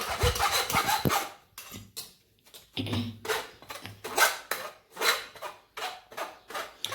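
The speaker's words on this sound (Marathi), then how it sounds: "यातच आपण चाळणीमध्ये बेसन घालून घेणार आहोत." Gram flour being sifted through a sieve for Maharashtrian yogurt kadhi, heard as steady rhythmic rubbing and scraping strokes close by, in repeated bursts with short pauses.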